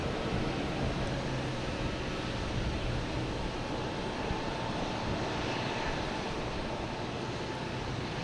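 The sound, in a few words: JetBlue Airbus A320 from JFK arriving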